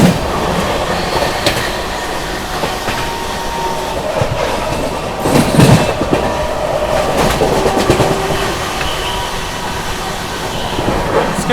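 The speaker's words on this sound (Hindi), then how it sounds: "बढ़िया रफ्तार में यहाँ पर अपनी प्रयागराज हम सफर स्किप कर रही है फिरोजाबाद रेलवे स्टेशन को।" The Prayagraj Humsafar Express speeds through Firozabad railway station, its wheels clattering loudly and continuously over the rails, with rushing wind and a brief louder burst midway.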